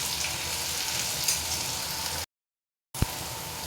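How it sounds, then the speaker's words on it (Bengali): Chopped onion fries in mustard oil in a wok, a loud, steady hiss of sizzling that stops abruptly, then resumes after a short silence with a single knock from stirring, with no talking. "কড়াইতে সর্ষের তেল দিয়েছি, তাতে পেঁয়াজ কুচি দিয়ে ভালো করে ভেজে নেব।"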